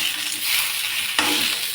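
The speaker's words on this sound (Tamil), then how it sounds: "மண் சட்டியில் இது மட்டும் அடுப்பெட்டில் வெண்டைக்காய் மட்டும் வச்சுருக்குது" Okra frying in a clay pot on a stovetop, a steady broad sizzle with a brief louder stirring scrape partway through, close and alone without talk.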